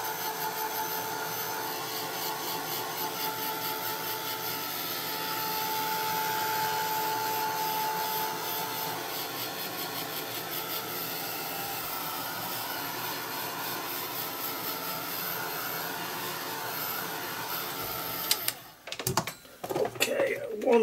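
A heat drying tool blows steady air across an art journal page, a continuous loud whooshing hum that runs nearly twenty seconds, then cuts off into a few brief knocks and clatters.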